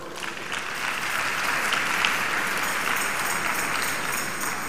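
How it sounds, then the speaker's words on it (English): A congregation at a pastor's birthday public lecture claps for the Lord, sustained dense applause across a large hall, steady and fairly loud throughout with no pauses. "Let's clap for the Lord"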